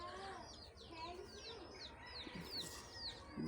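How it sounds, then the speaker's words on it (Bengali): Pigeons coo and call softly from a rural garden house by a river, a faint low murmur of bird sounds with some chirping mixed in, heard at a distance. "এই সেই পায়রা কবুতর"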